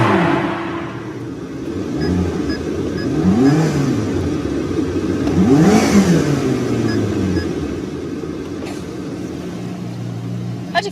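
A sports car engine with a tuned exhaust hums steadily in sports mode, then a couple of sharp revs swell and fall back, with a gruff exhaust note under a faint mechanical whir.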